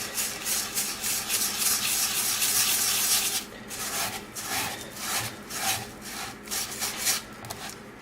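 Granular bath salts mixed with gold sparkle mica are stirred in a container, giving a continuous gritty scraping and rasping at close range that turns into shorter, intermittent strokes.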